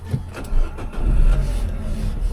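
A cheap auction car's engine, on 72,000 miles, cranks briefly and then catches, settling into a low, steady running rumble close by.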